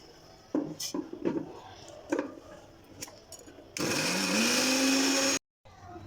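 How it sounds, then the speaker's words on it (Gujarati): A mixer grinder grinds desi rose petals in a loud, steady whirring burst of about a second and a half that stops abruptly, following some quieter clatter and handling noises. "હવે આપણે આને મિક્સરમાં દળવાની છે."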